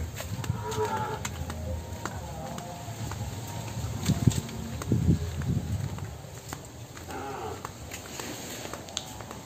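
Sows on a Vietnamese pig farm give low grunts and deep calls, near and moderately loud, mixed with shuffling hooves and scattered knocks from the pens over a steady hum, with no voices.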